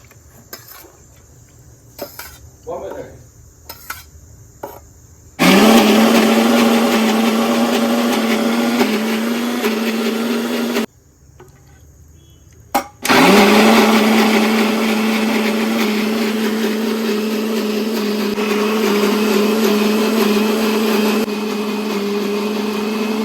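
Mixer grinder whirring as it grinds coconut chutney with coconut water, two long loud bursts of steady motor whine separated by a short pause, with faint clinks and quiet gaps before and between.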